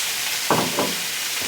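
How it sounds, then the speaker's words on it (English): Garlic, onions and yellow and red peppers fry in a skillet with a loud, steady hiss, broken by two short bursts of sharper sizzle as the vegetables hit the hot pan. "I'm going to take my garlic and my onions, yellow peppers, red, and I'm going to put that into my skillet"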